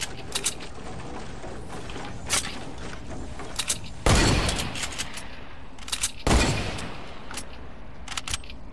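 Two loud sniper shots crack out in Fortnite, about two seconds apart, each a sharp broadband burst standing out over a steady bed of game noise, footsteps and mechanical clicks.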